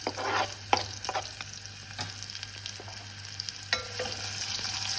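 Onion and garlic sauté in a pan for soyo, a soft continuous sizzle with repeated scraping and stirring strokes and occasional clinks of the utensil against the pan.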